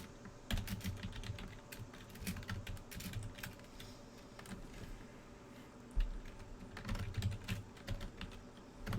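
Quick, uneven typing on a computer keyboard while scripting code, with bursts of close, light key clicks separated by short pauses, quiet and unaccompanied by speech.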